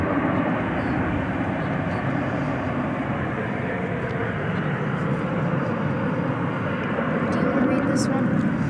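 A jet airliner at DFW airport at night gives a loud, steady, broadband engine roar that holds evenly for nearly nine seconds, close and continuous.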